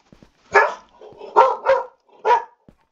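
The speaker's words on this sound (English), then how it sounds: "I don't know what he's barking at." A dog barks indoors in four sharp, close bursts, the middle two in quick succession, with short quiet gaps and a soft click or two between them.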